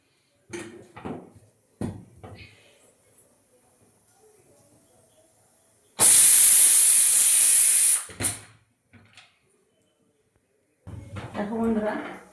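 Loud, sharp sizzling of food hitting hot oil in a home kitchen pan, a bright hiss that lasts about two seconds and then cuts off, with speech before and after it.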